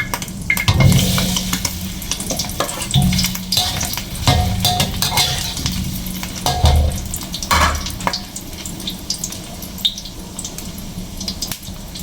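Crab sizzling in hot oil in a frying pan, a steady loud crackle with stirring scrapes and occasional bursts, no talking.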